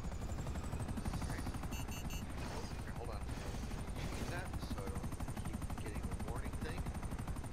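A helicopter's rotor in GTA 5 Online drones steadily throughout, with scattered synthetic gunfire bursts and faint chatter mixed in the background.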